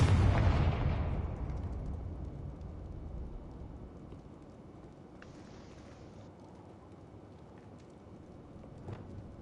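Confringo spell explosion in the Hogwarts Legacy game, a loud booming blast at the start that decays into a long rumbling tail, with faint clicks afterward.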